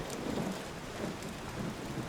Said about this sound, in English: Rain slams against the side of the buildings,